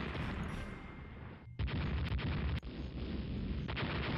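Naval gunfire striking the ship Chicago in the naval strategy game Rule The Waves: a dense, continuous roar of heavy booms and blasts, with sharp cuts where new explosions slam in, loud and close.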